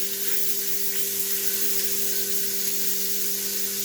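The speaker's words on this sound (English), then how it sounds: "Leave the bacon fat in there. Chuck in some butter." Butter melting into leftover bacon fat in a hot pan, a steady close hiss and sizzle running continuously without talk, with a faint low hum underneath.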